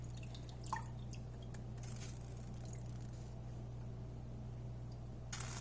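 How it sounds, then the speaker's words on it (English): Water dabbed and dripping onto naan dough in a home kitchen, soft wet squishes and drips over a low steady hum, with no talking. "I'm going to make sure I wet them well."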